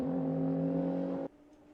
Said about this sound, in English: Great to hear the flat shifting on some of the cars out there